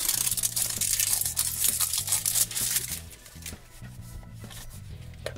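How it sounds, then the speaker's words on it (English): Crinkly plastic of a zipper bag holding toy surprises being handled and opened, a close, busy rustle that is loud at first and then softens, with background music underneath. "And here is our last little zipper."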